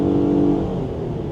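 Nissan Pathfinder with a CVT transmission under full throttle, a steady droning engine whine held at constant pitch, close and fairly loud, easing off toward the end.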